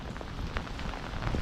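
Cold winter rain falls steadily outdoors during pickerel fishing, an even close patter with scattered distinct drops and no speech.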